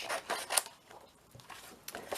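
Paper flap being cut by hand with scissors, a few short crisp snips and rustles of paper close by, fairly quiet with pauses between cuts.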